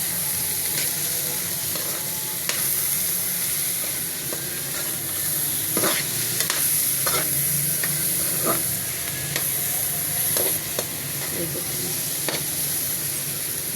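Carrot halwa cooking in ghee in a pan as it is stirred: a steady close sizzle runs throughout, broken by repeated spoon scrapes and taps on the pan, with no talk.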